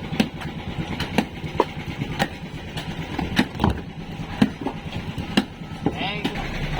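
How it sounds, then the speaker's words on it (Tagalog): A new engine idles during break-in, a steady low rumble punctuated by periodic sharp knocks or clacks, close and moderately loud with some background voices. "Ito yung bagong makina. Break in muna siya, break in."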